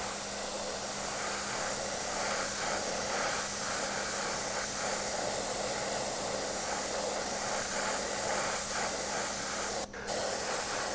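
An airbrush sprays a coat of lemon yellow paint with a steady, close airy hiss that runs almost unbroken, with one short dip near the end and no talking.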